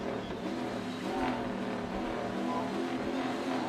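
BMW drift car engine howling at Suzuka Twin Circuit, a continuous loud revving roar with shifting pitch, close and dominant throughout.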